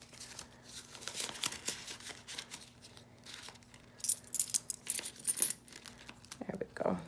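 Paper cash bills crinkle and rustle as they are handled and stuffed into a paper envelope, soft close-up crumpling bursts with a person talking over them.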